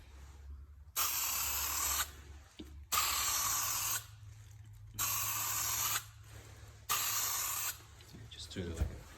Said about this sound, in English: I'm gonna spray the second layer soon.